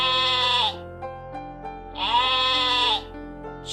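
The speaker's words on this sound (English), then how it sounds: "sheep," Sheep bleating in two loud, wavering calls, each lasting under a second, with a brief pause between and another call starting at the end; no other sounds.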